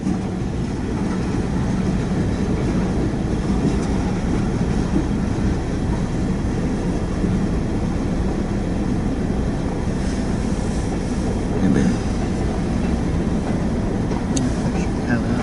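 A freight train rumbles past at close range in a steady, dense roar for the whole stretch, with a brief louder clank near the end; a voice speaks faintly over it.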